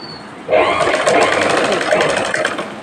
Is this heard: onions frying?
no